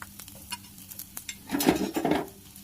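Onion, green chillies and garlic frying in oil, a soft sizzle with scraping and stirring that swells louder midway, close by.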